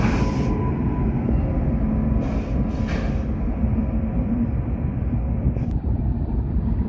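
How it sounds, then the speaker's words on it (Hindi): A WAP7 electric locomotive being coupled to the Vivek Express at a station: loud, continuous low rumble and machinery drone with a couple of short hissing air bursts early on and a sharp clank near the end. "लो भाई फाइनली अपनी ट्रेन को लगाया जा रहा है, WAP7 है।"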